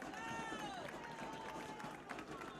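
Crowd in the stands at a Fullerton College men's soccer playoff game against LA City, with a faint, steady murmur of spectators and whistling tones far in the background, and no clear cheering.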